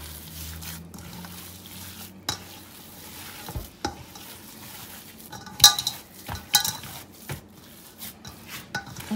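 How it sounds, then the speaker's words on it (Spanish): Meat patty mixture with egg and seasonings stirred and fried in a pan, a utensil scraping and clinking against the pan in uneven strokes over a soft sizzle, close up with no talking. "Hay que moverla bien porque tiene que agarrar el huevo y todos los condimentos."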